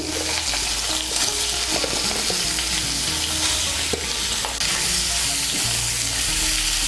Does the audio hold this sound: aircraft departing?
no